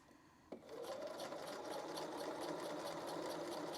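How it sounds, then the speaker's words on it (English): A sewing machine set to basting stitches runs across a stretch velvet dress, starting with a sharp click and then a steady fast whirring chatter at close range that continues to the end. "Switching my machine to basting, because that is what comes next. And I move my needle over for that stitching"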